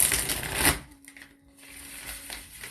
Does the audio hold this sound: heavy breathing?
no